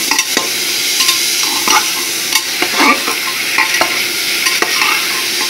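Potatoes and beans fry in a home kitchen pan, a constant close sizzle broken by repeated scraping and clinking as a utensil stirs them, with no voices.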